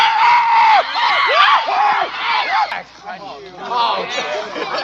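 A crowd screams and shrieks loudly during a night-time scout camp event, overlapping yells and whoops rising and falling continuously with chatter mixed in.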